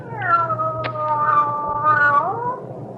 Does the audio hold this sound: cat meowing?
yes